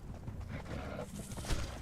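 A horse in the video game Conan Exiles gives a short neigh and hoof clops over a low, muffled rumble, with a brief louder thump near the end.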